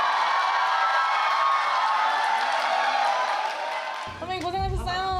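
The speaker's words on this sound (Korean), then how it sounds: "박수 주세요. 박수." A concert audience at a show cheers and applauds as a loud, steady roar for about four seconds, then fades as a nearby voice begins talking.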